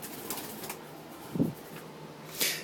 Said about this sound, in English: since the bird isn't causing too much damage